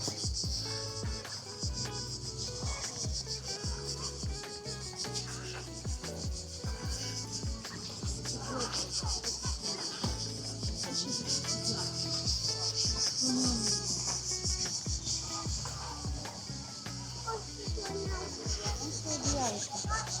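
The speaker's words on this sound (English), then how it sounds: "And the crickets are already at work." Crickets chirp steadily in a small coastal village on the Croatian shore near a pebble beach, a dense continuous high trill running the whole way through with a busy mix of other background sounds beneath.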